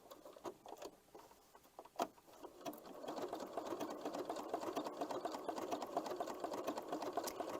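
Sewing machine sewing a blanket stitch for applique with gray thread, with scattered clicks and pauses at first, then a steady close run of fast, rhythmic needle stitching.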